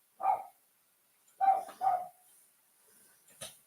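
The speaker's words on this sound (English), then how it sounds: "that's the little dog that's making all the noise" A small, old, blind dog barks indoors: one sharp bark, a pause, then two quick barks in a row, fairly close, followed by a faint short yelp.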